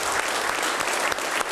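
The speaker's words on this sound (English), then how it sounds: "How about a round of applause?" Loud, dense applause fills a city council chamber in Oklahoma City, a steady wash of many hands clapping at once with no voices breaking through.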